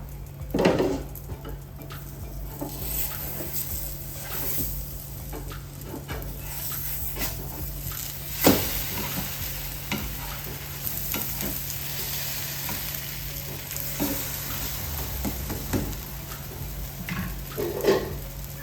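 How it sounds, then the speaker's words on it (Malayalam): Beaten egg mixture fries in a hot pan over medium heat, giving a steady close sizzle with scraping clinks of a spatula as it is flipped, and no talking. "വറുത്തെടുക്കാം. തിരിച്ചിട്ട് കൊടുക്കാം."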